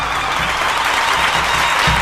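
A large audience applauds loudly and steadily, a dense wash of clapping from a crowd.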